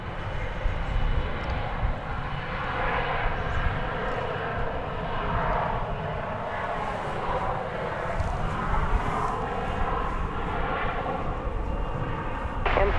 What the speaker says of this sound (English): what you saw taking off there was American 1331 to Los Angeles